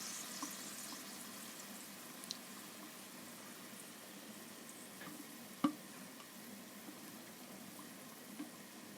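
Masala-marinated chicken fries in a cooking pot with a steady, soft, hissing sizzle and bubbling that runs throughout, broken by one sharp clunk of utensil on metal midway and a few faint taps.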